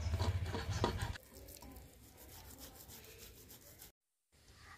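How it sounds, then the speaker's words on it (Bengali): A block of paneer is grated for spinach kofta, giving a steady, rough rasping scrape that is loudest in the first second, then continues as softer rubbing with a brief silent gap near the end. "পনিরটাও গ্রেট করে নেব।"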